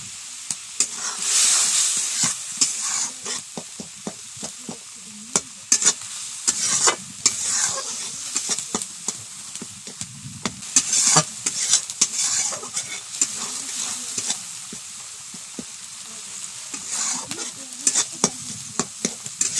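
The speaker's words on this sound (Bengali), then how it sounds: "জল দিয়ে মশলাটাকে ভালো করে কষে নেব।" Spice paste with water being stirred and fried in a pan for a Bengali village-style pointed gourd curry, a steady sizzle and hiss under repeated scraping stirs, close and fairly loud, no voices.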